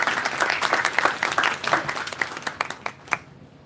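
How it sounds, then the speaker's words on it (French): An audience applauding after a welcome speech by a university vice-chancellor at an International Mother Language Day event in Mauritius, brisk dense clapping that thins into a few last claps near the end. "Sous vos applaudissements"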